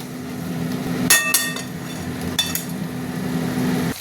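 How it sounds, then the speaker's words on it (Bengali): Shrimp being stir-fried with spices in a pan, giving a steady low sizzle broken by a few sharp metallic clinks of a utensil against the pan. "চিংড়ি মাছটা দিয়ে আবার ভালো করে কষবো।"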